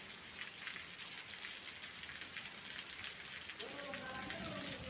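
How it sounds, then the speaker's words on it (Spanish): Steady rain falling in Holguín, Cuba, a constant dense hiss of drops on surfaces throughout, with a voice speaking faintly near the end. "Ya está aminorando la lluvia."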